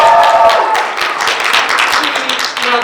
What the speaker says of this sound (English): You're allowed to applaud now.